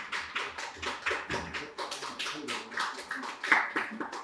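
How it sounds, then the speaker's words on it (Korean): An audience at a literature forum applauds steadily, a dense continuous patter of many hands clapping throughout, moderately loud and uninterrupted, with no one speaking over it. "여러분 큰 박수 부탁드립니다."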